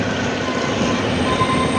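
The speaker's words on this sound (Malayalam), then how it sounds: "ട്രെയിൻ ഡീസൽ എഞ്ചിനാണ്." A diesel-hauled toy train to Shimla running steadily, a constant rumbling roar with a faint whine on top, loud and close as if heard from aboard.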